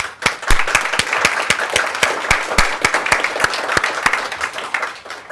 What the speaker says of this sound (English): Join me again in applauding our incredible panel across the day of brain talent and panelists.